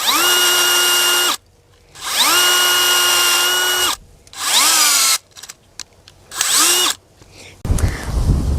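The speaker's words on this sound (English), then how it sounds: "I'm drilling into clay here." A loud power drill whines in several bursts while drilling into clay, two long runs then shorter spurts, its pitch rising as each starts and dropping as it slows.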